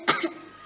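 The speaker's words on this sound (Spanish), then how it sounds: "Anda, tose otra vez." A single short, close cough from one person, with a weaker second catch at the end and a faint breathy tail.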